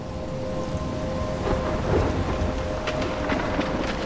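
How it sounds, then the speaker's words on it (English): Thunderstorm with heavy rain in the video game Life is Strange, dense loud rain hiss with rumbling thunder underneath, steady and close throughout, no talk. "I'm trapped in a storm?"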